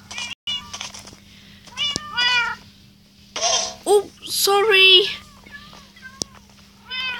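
Cats in the video game Good Craft meow repeatedly in short, rising and falling calls, some overlapping, over a low steady hum, while a person talks briefly between them.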